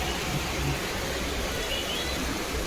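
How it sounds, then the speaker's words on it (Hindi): Heavy monsoon rain pours down steadily as a dense, continuous hiss with a low rumble underneath, loud and unbroken throughout, with no voices heard. "और बारिश होती है, क्या तगड़ा बारिश हो रहा है।"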